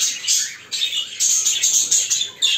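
Several caged pet birds chirp and tweet in a steady, close run of bright, high calls with brief pauses, clear and alone with no voices.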